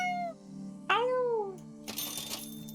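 Tabby Cat from the video game Super Auto Pets gives a couple of short cartoonish meows, one early and a rising-falling one near the middle, followed by a bright jingling chime, loud and close with no talking.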